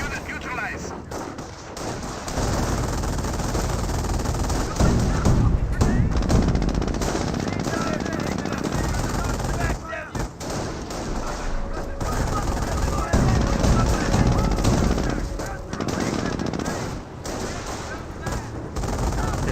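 Autocannon and small-arms fire in the World War II strategy game Company of Heroes: dense, sustained rattling bursts and booms that fill the scene loudly, with a brief lull partway through.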